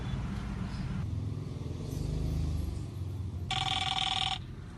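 A telephone rings in a home scene from an Indonesian short film, a single loud electronic ring burst heard alone over a low background hum.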